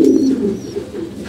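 Pigeons coo inside a loft on a rainy day, giving a loud, close, steady run of low throaty coos that fills the whole short stretch.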